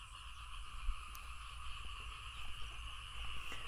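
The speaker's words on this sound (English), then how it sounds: "Now, I don't know whether you can hear this. That's all the frogs." Frogs calling after rain on a farm, a dense continuous chorus of high trilling calls in steady bands, fairly faint and distant with a low rumble beneath.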